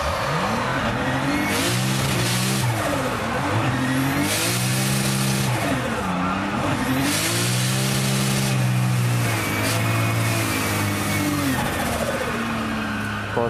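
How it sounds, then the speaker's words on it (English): Racing car engine revving hard as the driver repeatedly blips the throttle at the limit of traction out of a corner, loud and continuous with rising and falling pitch sweeps and brief bursts of tire squeal. "he actually got on the accelerator until the rears broke traction, then lifted a little bit and then got back on"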